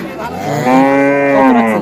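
A cow at a busy cattle market in Rajshahi lets out one long, loud moo that swells and holds steady close by, with faint market murmur behind it.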